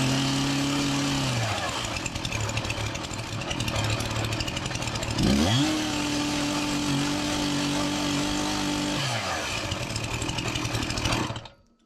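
A Farmertec MS361 chainsaw sputters on a pull, then fires up and runs steadily, its engine revving up and settling to a loud, continuous drone at close range before cutting off.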